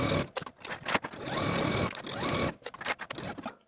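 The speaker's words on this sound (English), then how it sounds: "take it to your sewing machine and edge stitch close to that inner fold all the way around" A sewing machine edge-stitches fabric along an inner fold of a dress, running in short bursts and longer steady runs, its motor whirring and needle rattling up close, with brief pauses between stretches.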